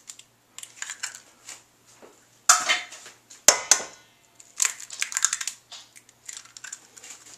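Two eggs cracked by hand into a hamburger meat mixture in a home kitchen: a few sharp cracks and taps against a bowl, with soft squishy mixing and clicking sounds in between, close up.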